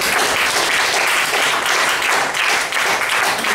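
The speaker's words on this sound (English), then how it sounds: "Please encourage him by giving a big round of applause." Sustained, loud round of applause from an audience at a speech evaluation meeting, dense steady clapping filling the whole stretch without a break.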